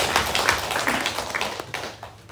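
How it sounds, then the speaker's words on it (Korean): Applause from a church congregation during a Sunday worship service, steady dense clapping from many hands that fades toward the end, heard at a moderate distance in a reverberant room. "우리 박수로 한번 감사하겠습니다"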